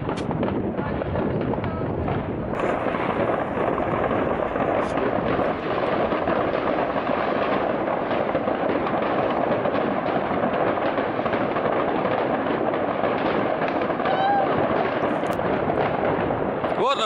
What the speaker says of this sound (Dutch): Wat een vuurwerk, joh. Er gaat zoveel de lucht in.